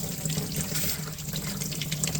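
Water runs steadily from a faucet, lightly pressed, to rinse a paint brush at a sink, with a continuous hiss and splash that stays close and unbroken throughout.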